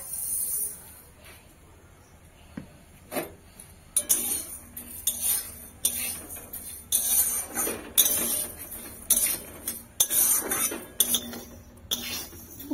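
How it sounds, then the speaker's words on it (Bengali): Mung dal being fried in a kadai while a spoon stirs it, giving close, irregular bursts of metallic scraping and clinking that grow busier and louder as the stirring goes on. "তো এখন আমি ডালটা ভেজে নেব।"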